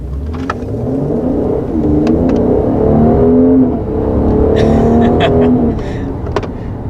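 2020 Mercedes GLC Coupe with nearly 400 horsepower pulling hard, a steady rising engine drone heard from the cabin, loud and continuous with light talk and small clicks near the end.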